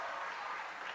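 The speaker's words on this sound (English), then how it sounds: "Everybody, again, give a round of applause for" A brief round of applause on a banter podcast episode, a soft, even hiss of many hands clapping at a distance, quiet and continuous for about a second with nothing else over it.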